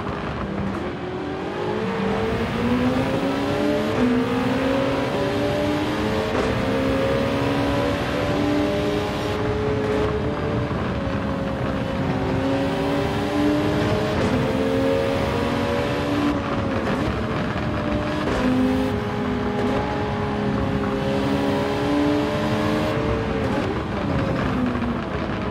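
A race car engine in the video game Gran Turismo 7 roars loudly and continuously, with repeated rising revs and gear shifts on a straight.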